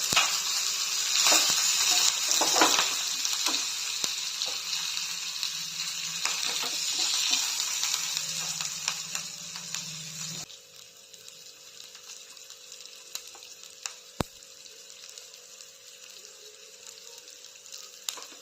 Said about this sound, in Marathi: जिरं टाकल्यानंतर थोडीशी मिरची, कढीपत्ता, गॅस कमी करायचा.